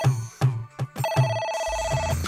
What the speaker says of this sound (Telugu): ఫోన్ వస్తే ఎత్తాలయ్యా.